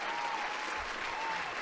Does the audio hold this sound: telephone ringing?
no